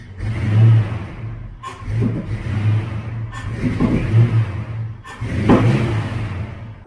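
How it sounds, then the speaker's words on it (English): A car engine revs repeatedly in bursts, loud and close, with short sharp pops back through the intake breaking through between the surges. "there is a noticeable pop back through the intake"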